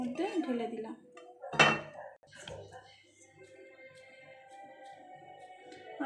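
Cooked pea filling for kachori tipped from a pan onto a plate, a single sharp clattering scrape of metal on the dish, followed by faint light clinks and soft kitchen noise.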